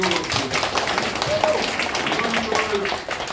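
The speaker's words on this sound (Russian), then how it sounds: "Громкие аплодисменты" Audience applause at a meeting with house committees in Krasnoyarsk, steady clapping from a hall crowd sustained for several seconds, with speech over it.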